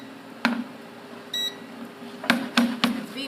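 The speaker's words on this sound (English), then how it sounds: "It's beeping because this is our induction range" A short electronic beep sounds once from an induction range after a pot is removed, followed by a few clattering knocks against a low steady hum.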